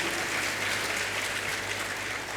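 Audience at a spiritual discourse breaking into dense, steady clapping, many hands together at close range, continuous and even through the moment with no voices over it.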